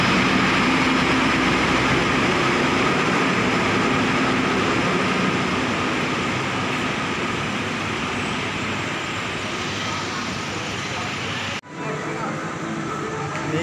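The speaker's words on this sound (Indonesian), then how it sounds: "Ini kereta yang akan kita naiki sudah datang. Kereta Jaya Kusuma." The Jaya Kusuma passenger train pulls into a station in Indonesia with a loud, continuous rumble and wheel roar that ease slightly over time, and then an abrupt cut leaves quieter station ambience.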